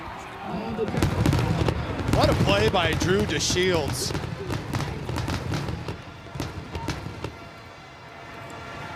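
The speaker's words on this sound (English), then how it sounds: "Well-deserved fireworks." Crackling bursts of fireworks celebrate a touchdown in an NCAA Football 2025 video game, Central Michigan at Kent State, popping in a dense cluster beneath an excited commentator's voice.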